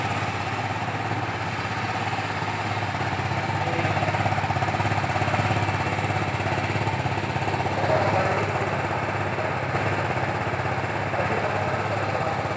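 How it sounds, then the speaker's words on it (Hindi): An Apache RR 310 motorcycle engine idles steadily and loudly, its exhaust giving a constant throbbing rumble throughout. "इसका एग्जॉस्ट सुना देते हैं।"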